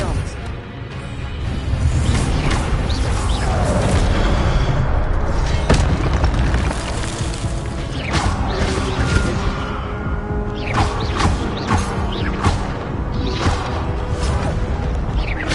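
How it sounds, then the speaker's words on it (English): Spell-casting bursts and booms from a Hogwarts Legacy duel on PS5, with repeated loud whooshing impacts and crashes over dense game music, continuous and busy throughout. "Expelliarmus!"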